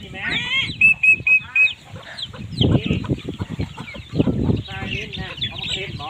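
Chickens cluck and squawk around a rural home, with some loud, close calls and a busy background of rustling and thumps throughout.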